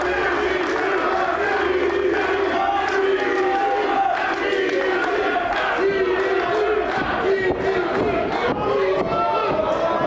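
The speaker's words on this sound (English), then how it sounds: "Fans love it at the London Music Hall." Wrestling fans at a Smash Wrestling show in the London Music Hall cheer and shout steadily, a dense crowd roar with scattered yells that fills the whole stretch at high, even loudness.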